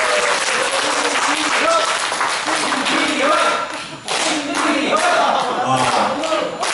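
An audience at a club meeting and singing contest applauds loudly, a dense burst of clapping from many hands that dips briefly, then swells again while a voice talks over it.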